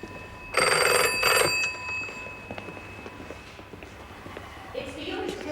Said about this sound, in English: It's for you, Mr. Kerslake. Can you take the number? He says it's very urgent